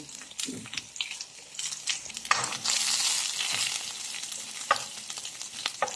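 Ginger frying in hot oil as garlic is added, a steady loud sizzle with crackles and pops and the scrape of stirring, close up with no talking.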